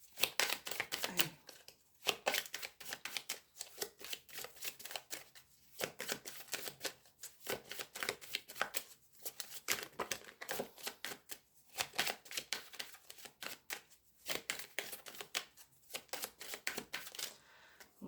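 Tarot cards are shuffled close up for a reading, giving quick, crisp repeated riffling and slapping sounds in an irregular rhythm without any talk.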